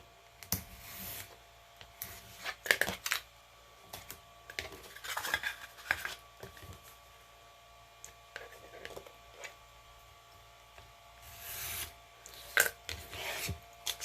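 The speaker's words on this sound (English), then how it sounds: "I'm just going to trim these couple of pieces down." Pieces for wall art letters being trimmed, with scattered rasping and cutting strokes in uneven bursts, close and moderately loud, with quiet gaps between them and no talking.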